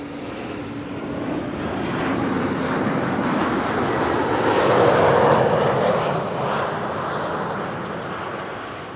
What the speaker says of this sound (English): KLM flight 1752 arriving from Hamburg.